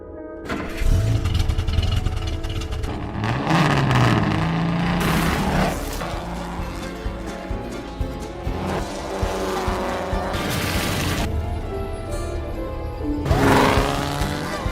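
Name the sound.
race car Hudson driving laps on a dirt track, Cars film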